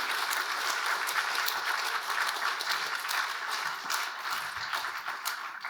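Audience applause for scientists at an evening event on smell, taste and medicine, a dense, steady round of clapping from a large crowd lasting throughout without fading.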